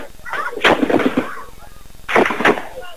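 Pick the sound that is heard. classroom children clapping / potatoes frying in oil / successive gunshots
successive gunshots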